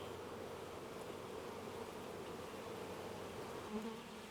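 Honey bees swarm around a frame of liquid chestnut honey, a continuous soft droning buzz from many insects close by, steady and low with no talk.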